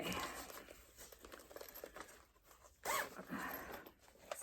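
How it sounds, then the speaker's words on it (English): A clothing-style zipper on a cross-stitch project bag is tugged in short, uneven pulls with crinkly fabric rustle, then jerks and snags; close and fairly quiet, with no talking. "Shoot, I just got the zipper stuck in it."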